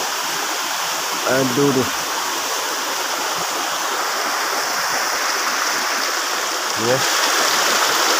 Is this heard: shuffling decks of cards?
no